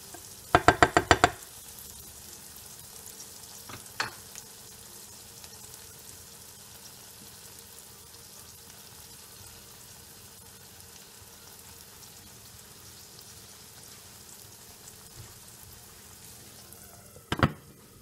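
Eggs frying in a pan give off a faint, steady sizzle, punctuated by a burst of knocks near the start and another clatter near the end, with no talking.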